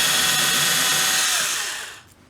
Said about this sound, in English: I will torque these down with this screwdriver, because I don't want to strip the holes of the screws